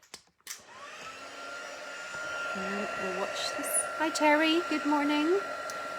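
A heat gun blows with a steady whooshing hum, melting embossing powder, while someone talks over it.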